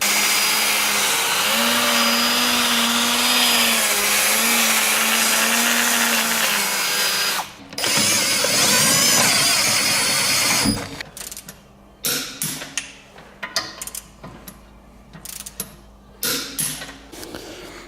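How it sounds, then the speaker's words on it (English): Mechanical work on a Mercedes C63 AMG strut being bolted back on, with a steady whirring power-tool drone for several seconds, then a brief burst, followed by scattered ratcheting clicks and metallic clanks in a quieter garage. "So we'll just bolt it back up and reverse the process we just did."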